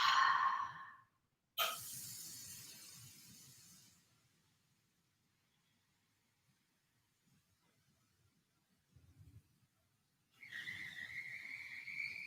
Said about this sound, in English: Big deep breaths into your belly.